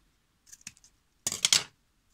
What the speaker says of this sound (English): here I'm gonna use my scissors